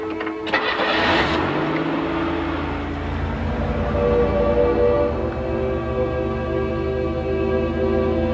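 An old couple's truck pulls away: a brief clatter and engine catch at the start give way to a steady idling drone with tonal whine that fades slightly as it leaves.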